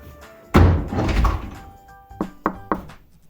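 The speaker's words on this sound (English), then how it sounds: "I close the door." A house door swings shut with one heavy thud and a brief rumbling rattle. A few lighter knocks and clicks follow as it settles. No voices are heard.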